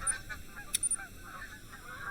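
Geese honk in The Hunter: Call of the Wild hunting game, a flock calling repeatedly in scattered, fairly distant honks over a soft outdoor ambience, with no voices.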